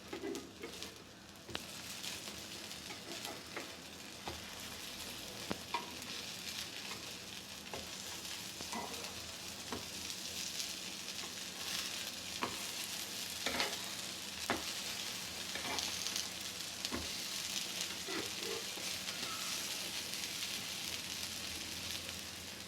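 Sprouted moong tikki sizzles steadily in a hot pan as the patties are flipped, with a constant crackling fry broken by occasional sharp clicks of the spatula.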